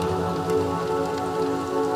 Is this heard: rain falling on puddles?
yes